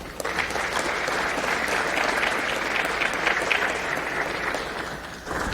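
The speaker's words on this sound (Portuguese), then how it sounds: "receba os nossos aplausos" A large crowd in Brazil's Chamber of Deputies plenary claps steadily for several seconds during a session honoring the Supreme Court president, sustained applause at an even level that tapers slightly near the end.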